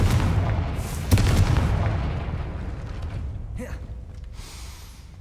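Confringo fire-blast spell exploding in the video game Hogwarts Legacy, a loud booming burst that rumbles and fades over several seconds, followed by faint magical whooshes.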